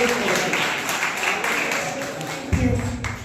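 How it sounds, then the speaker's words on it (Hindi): Crowd applause, a dense patter of many hands clapping, with a voice speaking in Hindi over it. "इस बेटी के लिए भी जोरदार तालियां।"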